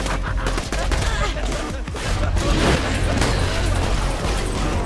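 Rapid automatic gunfire from a fast-firing Jacobs weapon in Borderlands 2, dense continuous bursts with booms and mechanical clatter, loud and unbroken throughout the stretch.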